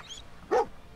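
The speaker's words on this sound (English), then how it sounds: "Oh, you cute German Shepherd." A German Shepherd in the game Fallout 4 gives a single short, fairly loud bark in the middle of an otherwise quiet moment, with no talking.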